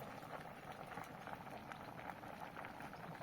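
A pot of wheat simmers at a steady boil, with soft, continuous bubbling heard up close and quiet throughout.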